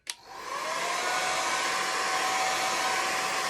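A hair dryer blowing on wet watercolour paint starts with a sharp click, then runs as a loud, steady, close whir with a faint tonal whine throughout.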